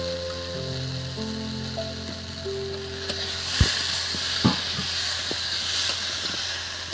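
Spices frying in a pan for a thin rui fish curry, a steady loud sizzle and hiss with occasional scraping stirs and clinks, under a faint tonal background.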